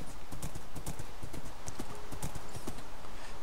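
Horse hooves clip-clop rapidly in Minecraft as the horse is ridden, making a steady, close, continuous trotting patter.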